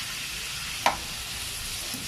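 Tuna and sayote stirred in a hot pan, a steady sizzle running throughout with one brief scraping clink near the start.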